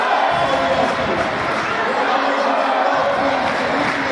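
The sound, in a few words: small crowd at girls volleyball game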